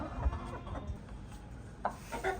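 An Aseel hen clucks a few short times amid a low, steady background murmur, fairly faint and intermittent.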